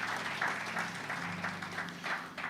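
A church congregation applauds steadily during a sermon, the clapping dense and continuous with a low hum of voices mixed in, holding at an even level throughout.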